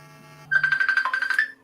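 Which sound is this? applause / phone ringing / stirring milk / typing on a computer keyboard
phone ringing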